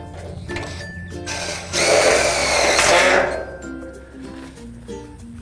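A power driver sends screws into the pre-punched holes of a steel shed garage frame mid rail, a loud whirring burst lasting over a second, with lighter metallic clinks and handling noise before and after.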